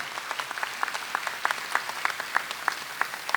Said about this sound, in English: Please once again give a round of applause to all these people who made today's thing possible.